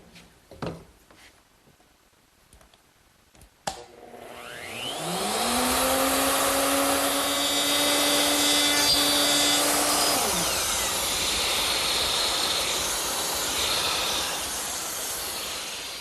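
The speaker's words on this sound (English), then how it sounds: "I've changed the depth of plunge on my router from 3/4 of an inch to a 1/2 inch to make a groove" A plunge router set half an inch deep cuts a groove in wood for a hall seat, starting after a few quiet clicks, rising to a loud, steady high-pitched whine, then winding down while the cutting noise continues.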